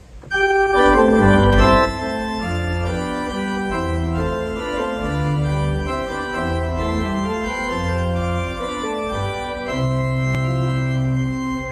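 A pipe organ plays a Bach chorale prelude with the melody carried in the right hand over sustained lower voices, a full, steady, continuous texture that swells slightly at the start and stays loud throughout.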